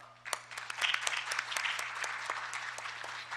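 Conference attendees applaud the panelists of a patent court session, a moderate, steady crowd clapping with distinct individual claps, heard at a slight distance over a low room hum.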